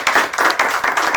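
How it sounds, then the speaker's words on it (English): Applause for a guest speaker, founder of a jewellery business: a short burst of close, rhythmic hand claps, fairly loud and without talk. "So I would request a big round of applause for our guest today."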